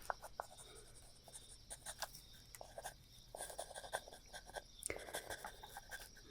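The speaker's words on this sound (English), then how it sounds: "Let me just write some of those down." Pen scratching across paper in quick, soft bursts of writing, close and quiet, set against faint background hiss with no talking.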